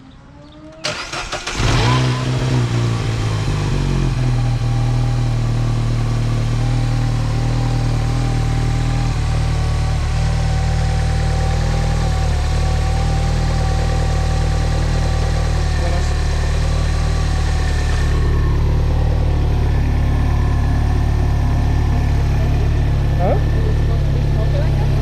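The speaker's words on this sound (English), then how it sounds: "Alright, so I'm gonna start this thing up and let's see what happens." An R56 Mini fitted with a new 47mm turbo cranks and fires up, then settles into a loud, steady idle that drones on close to the microphone without pause.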